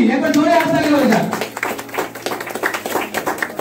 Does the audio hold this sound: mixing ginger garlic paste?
no